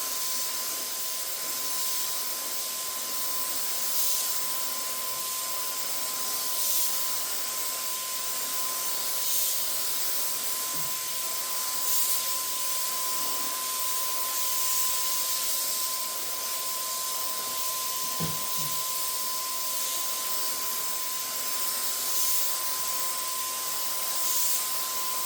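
A Wagner 4300 electric gravity-feed spray gun sprays Rust-Oleum metallic paint, a steady continuous hiss with a constant motor whine throughout, faint and even, with slight pulsing as the gun sweeps.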